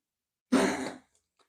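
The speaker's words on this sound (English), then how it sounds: "Excuse my dog coughing." A dog gives a single short, harsh cough close by, lasting about half a second, with silence before and after.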